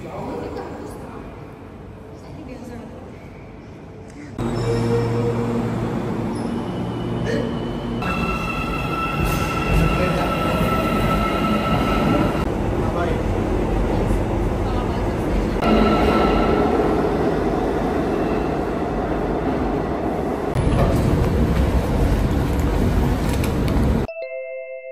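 Metro train in Almaty, Kazakhstan, heard as a steady rumbling ride with rising and falling rail noise, brief high tones and chimes, alongside ongoing speech throughout.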